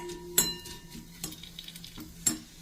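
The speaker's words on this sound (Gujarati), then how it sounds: "ખજૂર આપણું શેકાઈ રહ્યું છે ધીમે ધીમે" Dates (khajur) roast in a pan with a soft, steady sizzle, interrupted by three sharp scraping clicks of a spoon stirring against the pan.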